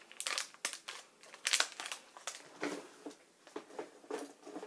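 Crisp crinkling and rustling as a plastic blind bag is opened, in irregular bursts, close by, with no voices.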